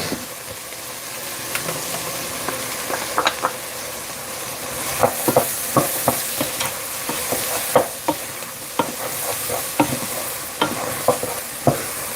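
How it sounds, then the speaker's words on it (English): Garlic sizzling in a hot pan in a home kitchen, with a constant frying hiss broken by repeated scraping clicks of a spoon stirring it, close and steady throughout. "Let that garlic cook out."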